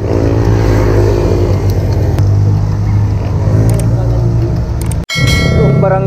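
Motorcycles pass along a mountain road on the Sierra Madre loop in Tanay, Rizal, heard from a riding motorcycle as a steady engine drone with wind rush and a few sharp metallic clanks.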